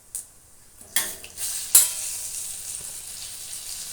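Cumin seeds and turmeric powder hitting hot oil in a pan: a sudden hiss and sizzle that rises in a couple of bursts, then settles into a steady, close frying sound with no talking.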